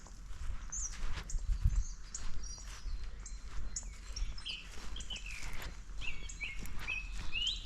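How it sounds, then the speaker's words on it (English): A bird sings a short phrase over and over in winter, bright and fairly close, against quiet outdoor background with faint footsteps. "I think I would spook the bird. Hear how it's repeating?"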